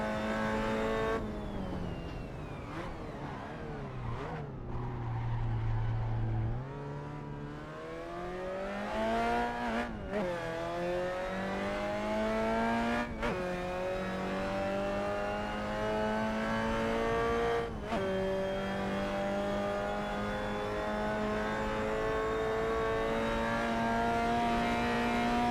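A 1966 Lotus Cortina's engine revs hard in an Assetto Corsa racing game, a steady loud drone rising and falling through gear changes, with a brief lift off the throttle before climbing again, with no voices over it.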